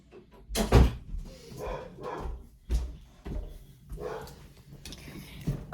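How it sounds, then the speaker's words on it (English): A dog barks indoors with several sharp, separate woofs and some softer whines at varying loudness, mixed with household noise and a nearby voice. "my dog's like in the background"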